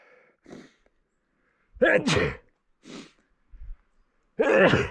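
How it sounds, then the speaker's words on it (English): A single sharp sneeze, preceded by a few quick indrawn breaths and followed by another short burst, close and loud against quiet. "I'm going to sneeze."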